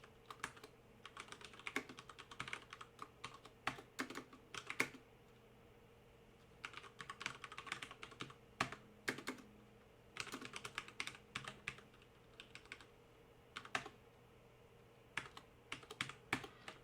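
Code is typed on a computer keyboard in bursts of quick, close key clicks and taps, separated by short quiet pauses, with no talking.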